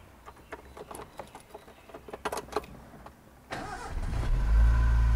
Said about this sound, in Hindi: हाफ सेल्फ पे गाड़ी स्टार्ट।